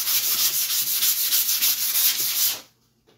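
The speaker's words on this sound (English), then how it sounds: "I'm just going to give this a quick scuff" Sandpaper scuffing a pre-finished plywood surface, a brisk rhythmic back-and-forth rubbing close by, steady and loud before stopping abruptly near the end.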